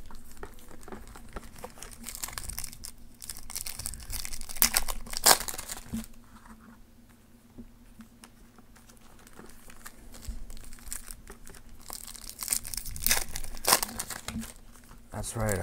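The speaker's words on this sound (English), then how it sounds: "This pack doesn't want to open." Trading card pack wrapper from a 2019 Panini Draft Picks football blaster being torn open: crinkly crumpling and tearing plastic in repeated bursts, close and fairly loud, with a voice talking intermittently.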